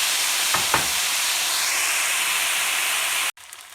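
Frozen tomatoes go into bulgur frying in a pan, giving a steady broad sizzle with a couple of brief stirring scrapes early on, running loud and close before cutting off abruptly near the end.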